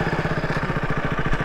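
Motorcycles idle nearby while stopped at a police checkpoint, their engines chugging in a quick, even rhythm. The sound stays close and steady throughout.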